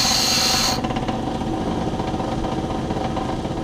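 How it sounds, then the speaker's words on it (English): A bench grinder sharpens the end of a bicycle spoke. A high grinding hiss cuts off after under a second, leaving the steady, close hum of the running grinder motor. "I'm rotating the spoke as I put it on the side of the grinder."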